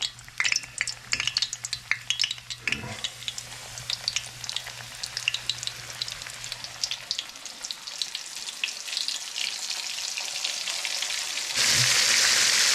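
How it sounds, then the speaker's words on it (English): Steady crackling sizzle of flour-dredged squirrel meat frying in a pan, with a few clinks and stirs early on; the sizzling swells louder near the end. "Just fry up some squirrel."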